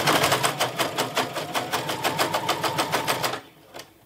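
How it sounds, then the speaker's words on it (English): A sewing machine runs a straight stitch through a spare piece of fabric, a steady rapid needle rhythm up close that stops abruptly near the end. "I'm gonna lower the sewing foot and I will sew a little bit through a little bit of this spare piece of fabric."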